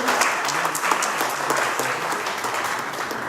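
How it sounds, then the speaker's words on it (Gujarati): An audience at an award ceremony honouring COVID warriors claps steadily, a dense, sustained wash of applause that keeps an even level throughout. "તાળીઓના ગણગણાટથી વધાવી દેવાનું"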